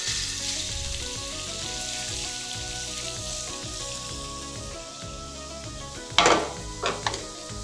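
Strips of half a chicken breast fry in hot oil, a dense, steady sizzle close up, followed near the end by a few sharp metallic clanks of a utensil against the pan; nobody speaks.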